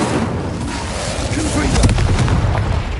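Incendio fire spell cast in Hogwarts Legacy, a short burst of crackling, rumbling fire with a deep boom near the end, close and loud.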